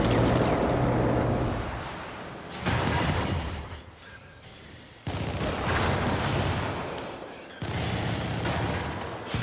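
Heavy artillery fire in a video game during a fire-for-effect barrage, with loud blasts arriving in broad bursts and rumbling decay between them, close and sustained, with no talk.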